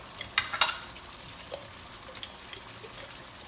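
Chicken karahi masala frying in a pan while being stirred, giving a soft sizzle with a few sharp scrapes and clinks of the spoon early on, then a quieter steady fry.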